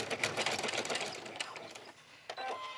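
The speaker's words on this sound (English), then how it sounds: "And I'll backstitch." Sewing machine backstitching through a dog leash handle, a fast steady needle chatter that runs continuously, slows briefly near the end, then picks up again.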